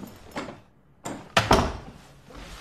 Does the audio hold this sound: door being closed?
yes